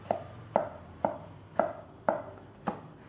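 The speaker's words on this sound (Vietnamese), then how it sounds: "Và các tép tỏi cũng vậy, cũng sắc nhỏ nhỏ rồi băm nhuyễn luôn." A knife strikes a cutting board six times at a steady, unhurried pace while garlic cloves are finely minced, each chop crisp and close with quiet pauses between.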